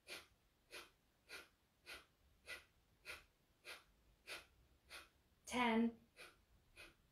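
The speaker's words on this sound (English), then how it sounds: "I'm going to do 40 short exhales again, starting with a small inhale" Short, forceful breath-of-fire exhales during guided breathwork, a steady run of about ten sharp puffs near the mic at an even rhythm, with one longer, harsher breath near the end.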